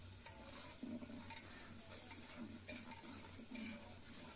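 A tomato and yogurt masala for chicken dum biryani bubbles softly in a pot while being stirred, with faint gurgling pops and gentle scraping, quiet and close.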